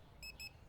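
A supermarket checkout scanner in the video game Supermarket Simulator gives two quick high electronic beeps in a row, faint and clean against a quiet background.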